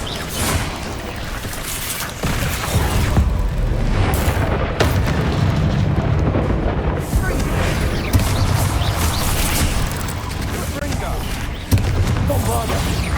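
Heavy booming blasts from the Bombarda spell in Hogwarts Legacy, fought inside a mine, roll out repeatedly with dense rumbling low end and crashing debris, with sharp bursts near the start and end.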